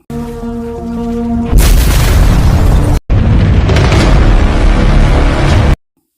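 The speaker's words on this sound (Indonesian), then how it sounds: "Setelah menghabisi semuanya, Maria meledakkan gudang tersebut." A warehouse blown up in a film scene gives a loud, sustained explosive roar that surges suddenly, cuts out briefly, then rumbles on densely before stopping abruptly, with no talk over it.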